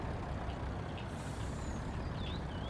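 A heavy truck idles and backs up at a truck stop in a truck parking simulator game, with a constant low engine rumble and faint intermittent reversing beeps and chirps over it, no talking.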